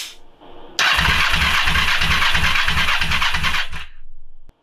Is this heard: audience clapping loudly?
no